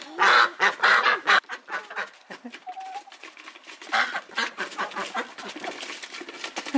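Hens in a straw-bedded chicken coop make loud, close squawks and honking calls at first, then settle into quieter, irregular clucking and rustling.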